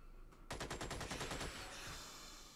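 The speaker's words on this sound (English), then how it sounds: "Blue flare with that machine gun." A machine gun in the video game Xenonauts fires a rapid burst of about a dozen sharp shots after a brief lead-in sound, then fades into a lingering tail.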